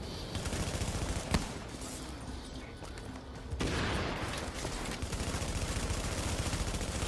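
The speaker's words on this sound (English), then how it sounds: "I'm just shooting the medic" Sustained automatic gunfire from The Division video game, dense rapid bursts running steadily throughout at moderate loudness, with a brief sharper shot early on and a slight rise in intensity midway.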